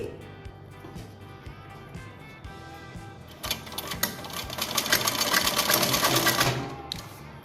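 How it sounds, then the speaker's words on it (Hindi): A sewing machine stitches elastic onto a baby frock, its needle ticking in a steady rhythm that speeds into a loud, dense whirring run before slowing and stopping. "फिर दोबारा इस इलास्टिक को खींचेंगे, लाइन के ऊपर रखेंगे और दोबारा ऐसे सिलाई लगाएंगे"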